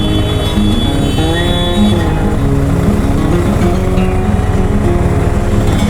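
A Yamaha TMAX DX scooter engine drones loudly and steadily while being ridden, a close continuous hum whose pitch shifts slightly with the throttle.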